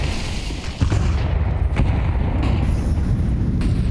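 Grenade explosions in a Counter-Strike match at IEM Katowice 2025, loud booming blasts with a couple of sharp impacts over a dense, continuous rumble of game noise.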